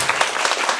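An audience at a closing session of a civic tech workshop at Tainan Girls' High School gives a brief burst of applause, dense clapping filling the short moment.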